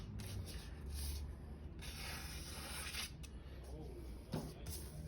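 A Shirogami steel bunka knife is stroked across an 800 grit whetstone, producing soft rhythmic scraping rubs in bursts, close and fairly quiet, with low room noise between strokes.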